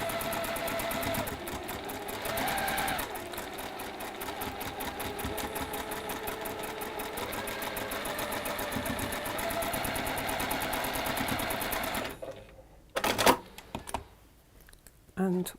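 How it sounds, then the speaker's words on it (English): Sewing machine running steadily for about twelve seconds, stitching a flying geese quilt unit with a quarter-inch seam, then stopping and giving way to quieter handling noises and short bursts of sound. "while you take it to the machine. And we'll just sew again"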